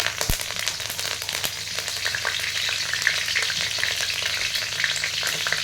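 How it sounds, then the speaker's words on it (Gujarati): Cumin seeds and curry leaves sizzle and crackle steadily in hot oil while ragi puffs are seasoned, with a dense, even frying hiss and small pops throughout, no voices. "હવે તેલ થઈ જાય એટલે આપણે એમાં થોડુંક જીરું એડ કરીશું લીમડીના પાન છે એ એડ કરીશું"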